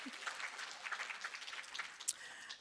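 A conference audience at a research indaba on gender-based violence in higher education gives Professor Nduna a round of applause: soft, steady, moderately distant clapping that carries on for a couple of seconds.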